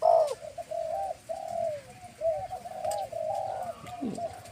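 A trained wild dove, kept for high-forest calling, coos in a long series of close, steady mid-pitched notes over faint outdoor background.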